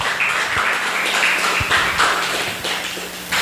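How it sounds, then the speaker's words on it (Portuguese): A church congregation applauds during a worship service, a dense wash of clapping with a few sharper low thumps near the microphone, sustained and fairly loud. "Aplauda o Senhor a todos"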